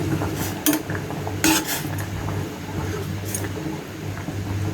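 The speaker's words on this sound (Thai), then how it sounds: "สุดท้ายเราก็ใส่เส้นลงไป ต้มนะคะแป๊บเดียวนะคะ" Noodles drop into a pot of boiling broth for Chonburi-style yen ta fo, with a few sharp clatters and splashy bursts over a low simmering hum.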